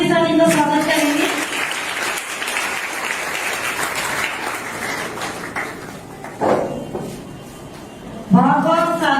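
An audience of children claps to welcome an SSB inspector to the stage. The applause is steady and sustained, with a voice speaking briefly at the start and again at the end.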